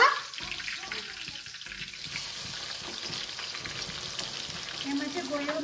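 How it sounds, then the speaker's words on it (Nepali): Onions for chicken biryani frying in ghee hiss steadily in the pot after a brief clatter at the start, a moderate, continuous sizzle with faint stirring. "अब प्याज हालिहाल्छु ल"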